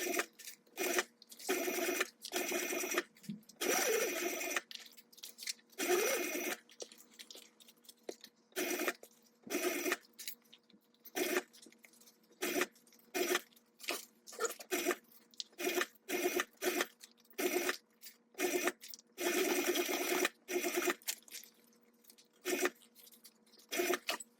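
A sewing machine stitches a mini backpack in repeated short bursts, each a close, loud rattling whir separated by brief pauses, stopping and starting throughout with no talk.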